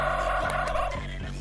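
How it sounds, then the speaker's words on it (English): A turkey gobble sound effect from the video game Gorilla Tag: one short, rapid warbling gobble with a rattling, throaty texture, heard alone. "Turkey."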